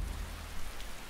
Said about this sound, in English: Just step outside and it's bloody raining